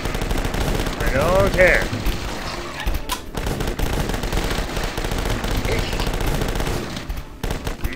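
A sawn-off shotgun fires in rapid, dense volleys in the video game The Last Stand 2. The game shots are loud and nearly continuous, and someone briefly speaks over them.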